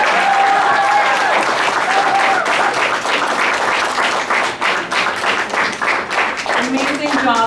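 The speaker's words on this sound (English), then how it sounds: "can we all give them a round of applause?" Audience at an anti-militarism rally gives a sustained round of applause, dense clapping close and loud, thinning toward the end as a voice returns.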